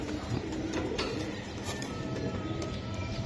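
A male Black Pied racer pigeon at a market gives soft, low cooing in short repeated bursts, close but faint, over a busy background murmur.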